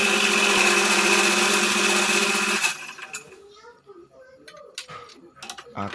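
A drill whines loudly and steadily for a couple of seconds while boring into a motorcycle cylinder head, then stops abruptly, leaving quieter clicks and faint handling noises.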